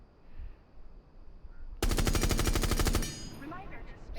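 A suppressed weapon fitted with a muzzle suppressor fires one rapid automatic burst of about a dozen shots, close and loud, in the game Rainbow Six Siege with Thatcher as operator. Quiet menu or ambient sound comes before and after the burst.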